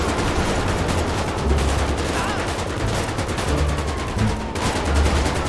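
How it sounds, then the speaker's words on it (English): Rapid gunfire in GTA 5 rattles on in dense bursts throughout, loud and continuous, with faint talking mixed underneath. "Oh, look at my guy shooting."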